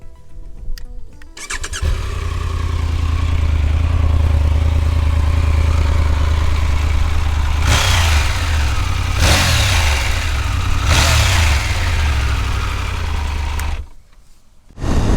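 A 2022 Triumph Tiger 1200 motorcycle engine with irregular crankshaft firing starts and settles into a loud, close, uneven idle, with a few sharp blips of the throttle before it cuts off.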